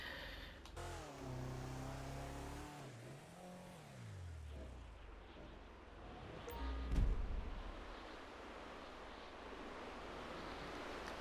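A car is driven off road, its engine revving up and down in low, rumbling surges. It sits fairly quiet and somewhat distant under steady background noise, with a brief louder bump partway through.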